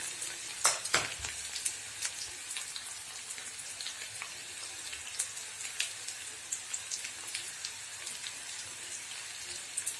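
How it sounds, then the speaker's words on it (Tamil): Bitter gourd sautéing with onions in a pan gives a steady fine crackle and sizzle, with scattered sharper pops and a louder burst near the start, heard close up with no talk. "அதுலேயே நம்ம பாவக்காயை போட்டு நல்லா வதக்கி எடுத்துக்கலாம்"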